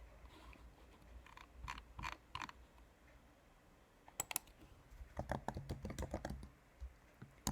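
Someone types on a computer keyboard in a few separate clusters of sharp, close clicks, with a quiet gap before a busier final burst of keystrokes.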